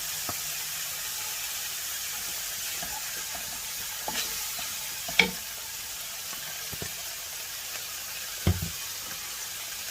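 Fried rice hisses and sizzles steadily in a hot pan with chili garlic sauce added, a constant frying bed broken by a few light knocks of a utensil against the pan.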